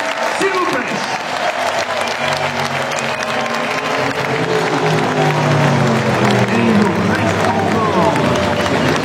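At the Le Mans 24 Hours finish, a large trackside crowd applauds and cheers the Cadillac race cars in sustained clapping, with a public-address voice and crowd chatter mixed in.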